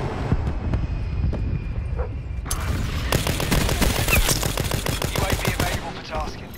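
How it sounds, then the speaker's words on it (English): In Call of Duty Black Ops 4, a Thresher aerial gunship strafes the area. Dense rattling gunfire and impacts build into a loud, sustained barrage over a low roar, with a faint voice in the mix. "Hostile thresher commencing attacks."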